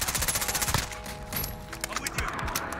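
Fast bursts of AS VAL assault rifle fire in Modern Warfare rattle out in quick rhythmic volleys, pausing briefly before a few more scattered shots and clanks close by.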